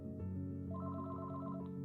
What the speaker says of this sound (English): Just then, the landline phone rang